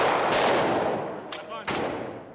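A rented shotgun fires a slug outdoors, the blast filling the opening of the clip with a loud broadband roar that decays and echoes, followed by a couple of fainter sharp bursts near the end.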